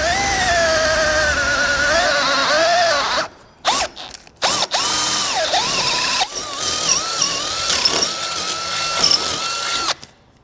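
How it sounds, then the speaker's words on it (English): Power drill boring a 3/8 inch hole through a 2022 Chevrolet Equinox frame during base plate installation, a loud whining motor that pitches up and down, stops and restarts in short bursts, then runs steadily before cutting off. "So 3/8 drill bit. You're going to drill through"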